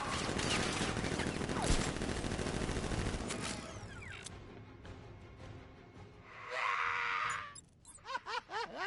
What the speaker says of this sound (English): Guard! Open fire! Shoot everything! Now!